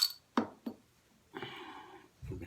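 A bottle of Founders Mosaic Promise beer is opened: two sharp glassy clicks, then a short fizzy hiss and a final soft clatter, all quiet and close.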